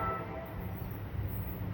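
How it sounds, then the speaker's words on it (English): Passenger train 1215 to Waldwick, led by an ALP-45DP locomotive, sounds its horn at Clifton station with a sustained, droning blast over low rumble. The horn fades slightly over its short span. "Ooh, he has a good horn."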